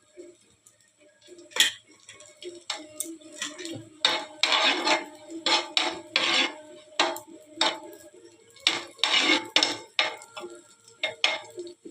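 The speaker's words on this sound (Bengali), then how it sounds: "এখন কিশমিশটা ভেজে নেব।" Raisins fry in ghee in a pan while making carrot halwa, with repeated scraping and stirring clinks of a metal spoon against the pan and a faint sizzle underneath, in bursts, close up.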